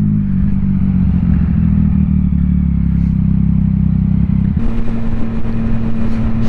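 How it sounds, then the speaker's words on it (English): Loud, steady motorcycle exhaust drone while riding, a continuous low rumble with wind noise that shifts slightly in pitch partway through, close and constant throughout. "This exhaust, it is actually decently loud without the earplugs."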